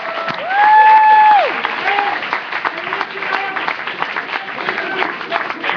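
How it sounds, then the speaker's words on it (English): An audience applauds after a panel discussion with Michael Moore and Chris Hedges about the NDAA. Steady clapping fills the room, swelling early and then carrying on at an even level, with a few voices underneath. "A round of applause for Michael."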